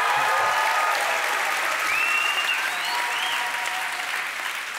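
A large room full of audience members clapping steadily, a dense, loud wash of applause that holds throughout and fades slightly at the end.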